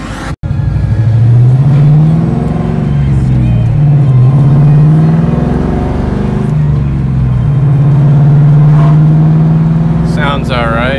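A Ford Mustang engine drones steadily while cruising in fourth gear, a loud, low, continuous hum from inside the car with slight rises and dips in pitch, and someone talks over it near the end.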